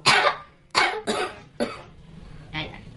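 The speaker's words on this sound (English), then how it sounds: "with that whooping cough" Four harsh, close coughs in quick succession, then a fainter fifth, loud and raspy like a whooping-cough fit, with no talk over them.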